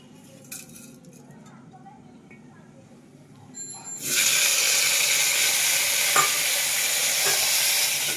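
Whole cumin seeds hit hot oil and burst into a loud, steady sizzle after a few quiet seconds with faint kitchen clinks. The frying stays close and continuous.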